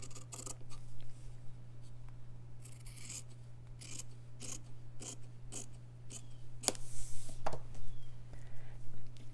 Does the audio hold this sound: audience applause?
no